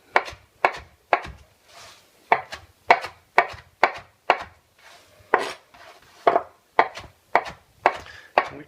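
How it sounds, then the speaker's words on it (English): A knife rough-chops fresh mint leaves on a board in a quick, steady series of about sixteen crisp, close strikes with short gaps between them, alone with no voices. "And now I'm just going to chop them, and this will be the mint flavoring in our mint syrup"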